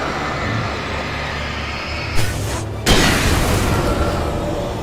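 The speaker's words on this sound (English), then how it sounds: "hunt rifle's a one-hit kill" A hunting rifle fires in the video game Alan Wake Remastered, with a sharp boom followed by a louder, sustained blast and rumbling tail over constant background noise.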